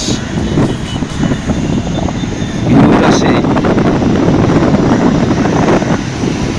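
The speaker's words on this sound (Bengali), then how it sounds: "বাতাস" Seaside wind in Sri Lanka blows as a steady low roar buffeting the microphone, growing stronger partway through and staying loud and close.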